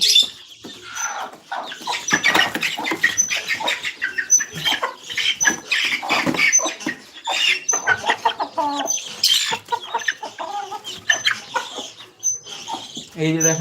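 A young chicken clucks and cheeps near at hand after being placed in a pen, giving repeated short, high calls in irregular bursts while a person talks at times.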